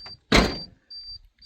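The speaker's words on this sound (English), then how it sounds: "I shut the door" A Ford BA Falcon's door swings shut with a single solid thump, close and fairly loud, followed by quiet mechanical noises of the car.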